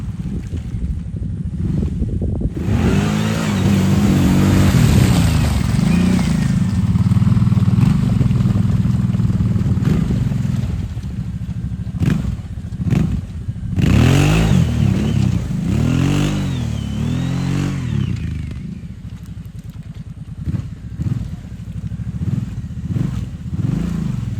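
A truck on huge mud tires powers through a mud hole, its engine loud and close. The engine surges and revs repeatedly over a steady rumble for about twenty seconds.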